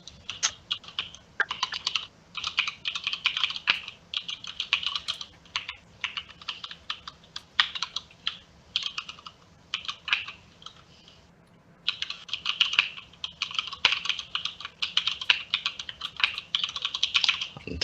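Rapid, steady clicking of fingers typing on a computer keyboard, close and clear, in quick bursts with a short pause partway through and no voices.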